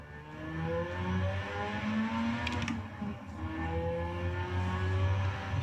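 A racing game car engine revs, played on a Thrustmaster TH8A shifter with a Playseat Challenge rig. It makes a steady whirring drone with rising and falling pitch sweeps, broken by a brief mechanical clack.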